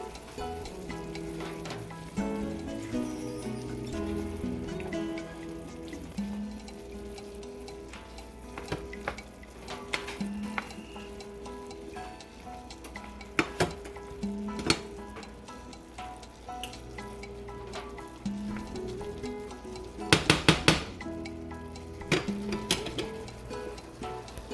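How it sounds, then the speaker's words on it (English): Vegetables sauté in a skillet for spaghetti sauce, a soft continuous sizzle with scattered clicks and clatters of utensils, building to a brief burst of sharp scraping near the end. "I'm going to go ahead and throw my vegetables in there so they can saute"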